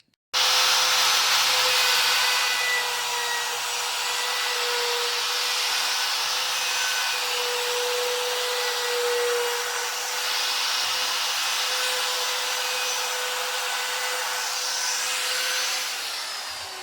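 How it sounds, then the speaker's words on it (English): A loud, steady high-pitched whine of a power router rounding over the edges of a wooden project, running continuously for about sixteen seconds with slight shifts in pitch as it bites. "I'm going to take my router and just round these edges over"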